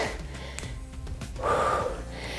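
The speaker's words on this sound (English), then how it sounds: "Breathe in, breathe out. Exaggerate that breath out." A forceful, exaggerated out-breath during a cardio and standing abs workout, heard as a close, breathy gasp-like exhale with a rougher push of air about midway through.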